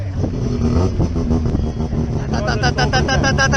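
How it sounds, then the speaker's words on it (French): A loud Alfa Romeo sports car engine runs steadily with a throaty, pulsing, motorcycle-like rumble that rises in pitch near the end as it revs, with faint voices in the background. "Vous entendez le bruit de son moteur?"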